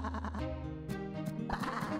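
A cartoon lamb among a flock of sheep bleats loudly and close up, with a few wavering, quavering calls packed into two seconds.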